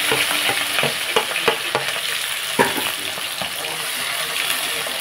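Green chillies fry in hot oil, giving a continuous loud sizzle and crackle with repeated scraping and tapping of a spatula against the pan, no voice.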